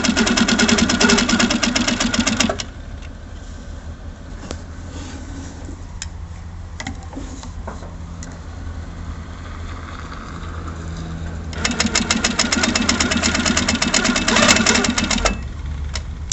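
A Handi Quilter longarm quilting machine with Trustitch stitch regulator running loud and fast, dropping to a slower, quieter hum for several seconds, then speeding up again before easing off, close and continuous with no voices.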